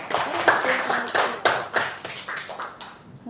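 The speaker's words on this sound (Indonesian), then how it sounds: "yeay, tepuk tangan dulu" A small group in a classroom claps together, with scattered hand claps mixed with a teacher's and children's voices. The claps are close and moderately loud across a few seconds.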